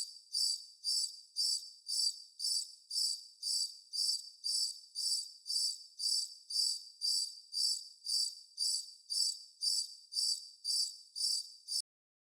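A cricket chirps steadily, about twenty evenly spaced bursts in a regular rhythm, clear and alone against silence.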